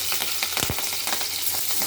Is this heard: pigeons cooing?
no